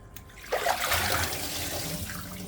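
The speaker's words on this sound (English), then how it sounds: "Rinse them really good." Running water from a kitchen tap splashes as potatoes are rinsed, starting abruptly and then continuing as a steady close rush.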